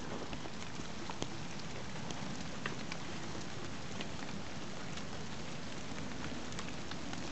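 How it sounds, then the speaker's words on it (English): Heavy, steady rain pours down on a tipi camp during a winter-to-spring solo camping trip, a dense continuous hiss with scattered drop patter on the canvas and surroundings, unbroken for the whole stretch with no voices. "it's been throwing it down the rain for about 8 hours now"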